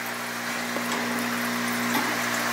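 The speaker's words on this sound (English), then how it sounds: "This is the pump that I use, the General Hydroponic pump." A General Hydroponic pump runs with aerator stones in a basement hydroponic lettuce setup, producing a continuous bubbling hiss over a steady low mechanical hum, close and unbroken with no talking.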